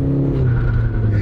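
A used manual-transmission car pulling hard from a stop on a small drag strip, its engine a loud, close, steady low rumble and rising roar throughout, with no talking.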